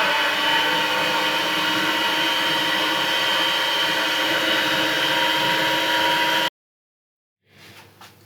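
Electric mixer beating gluten-free buckwheat bread batter, a loud steady whirring drone running for over six seconds, then cutting off abruptly into silence before faint handling sounds.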